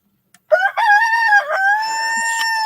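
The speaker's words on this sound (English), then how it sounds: "the rooster wants to say something" A rooster crows once, loud and close, in a single drawn-out call that holds steady for about two seconds after a brief click at the start.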